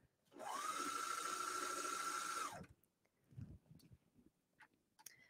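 A 4-thread overlock serger runs steadily for about two seconds while sewing binding onto a T-shirt, a loud whirring hum that starts and stops abruptly and is followed by quiet handling noises.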